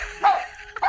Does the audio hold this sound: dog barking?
yes